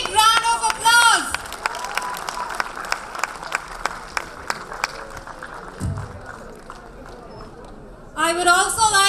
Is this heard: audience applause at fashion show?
yes